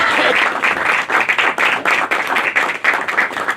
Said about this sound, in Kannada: ಅವರನ್ನು ಕೂಡ ಚಪ್ಪಾಳೆಯೊಂದಿಗೆ ಸ್ವಾಗತಿಸಬೇಕು ಅಂತ ವಿನಂತಿಸ್ತಾ ಇದ್ದೀನಿ